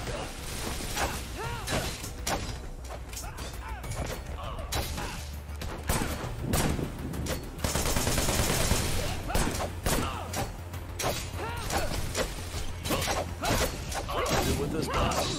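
Busy combat gunfire in the video game Wanted: Dead, with dense bursts and mechanical clatter layered over a continuous game soundtrack, while voices talk over the action.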